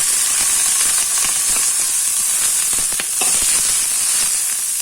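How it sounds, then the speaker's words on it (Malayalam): Dried red chilies and chopped onion fry in a teaspoon of oil for a chutney, a steady close sizzle and hiss with scattered crackles and pops running throughout, no voices. "1 ടീസ്പൂൺ എണ്ണ ഒഴിച്ച് 2 മുളക്, സവാള അരിഞ്ഞത് കൂടെ"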